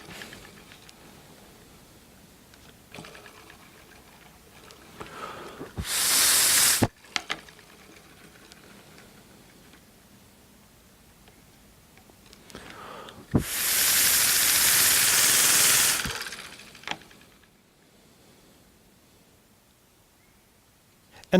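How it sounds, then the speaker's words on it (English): Two loud bursts of hissing air from a Ugears wooden model pneumatic engine, a short one then a longer few-second blast, separated by quiet mechanical ticking and faint clicks. "I like the sound of this engine."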